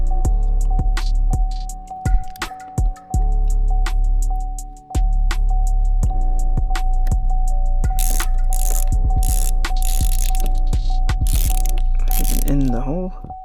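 A hand ratchet clicks as it drives a Torx bit on the shift knob inside a fifth-generation Camaro ZL1, loud close clicking in rapid bursts, then rustling and shifting handling noises, under a constant hum.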